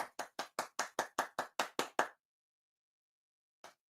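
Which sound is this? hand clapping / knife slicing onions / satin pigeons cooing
hand clapping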